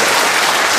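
Audience applause for Korean War veterans at a commemorative gathering, a dense, loud wash of clapping that fills the whole moment without a break.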